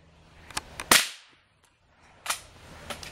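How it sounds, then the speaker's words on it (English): A .22 LR rifle fired at a squirrel while hunting outdoors, one sharp, loud crack with a brief decay, followed later by a few fainter knocks and clicks, with no talk. "I shot the second one."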